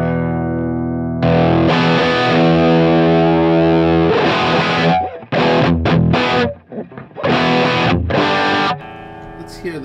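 A distorted electric guitar played through a Line 6 Helix processor rings out in thick sustained chords and choppy bursts with brief gaps, loud and unaccompanied.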